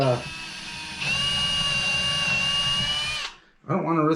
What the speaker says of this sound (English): the reason I'm drilling these holes out